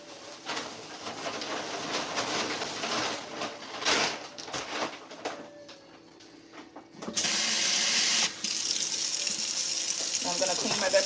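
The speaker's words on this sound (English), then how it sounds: "I'm going to clean my vegetables really well." Tap water runs into a sink as carrots, cucumbers and celery are washed, starting as intermittent splashing and handling, then a loud steady gush from about seven seconds on, briefly interrupted.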